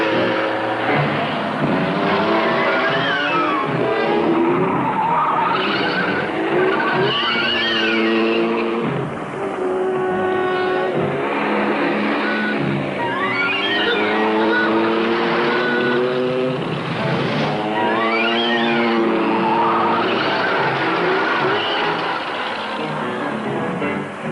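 A car races fast in a radio-drama chase, its engine loudly revving up and down in repeated swells, with tire squeals and skids, close and continuous throughout.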